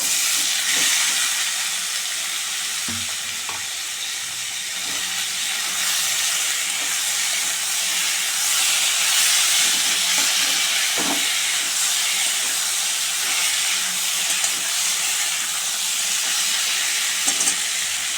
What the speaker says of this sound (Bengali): পেঁয়াজটা ভাজা ভাজা হয়ে গেছে, এবার ওল ডাঁটাটা দিয়ে দেবো।